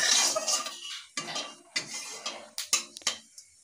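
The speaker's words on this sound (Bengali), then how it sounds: "ফোড়নটাকে কয়েক সেকেন্ড নাড়াচাড়া করতে হবে।" Whole cumin seeds tempered in hot oil in a pan for a Bengali fish curry, stirred with a utensil: a sizzle fading under a series of sharp scraping and clinking strokes against the pan, close and fairly loud.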